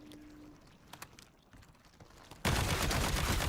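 Automatic weapon fire in an end-game video game session bursts in abruptly and loud midway, a dense continuous rattle of rapid shots after quieter menu clicks and faint ticks.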